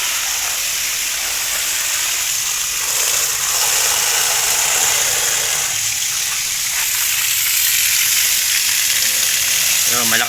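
A Mitsushi 0.5hp electric water pump running with its pressure tank, water rushing out under strong pressure as a loud, steady hiss that stays constant throughout with no pauses.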